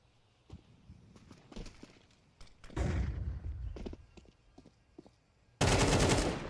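Video game gunfire in a level 10 match: scattered single shots and short bursts, then a loud sustained volley at the end, with quiet ambient game sound between.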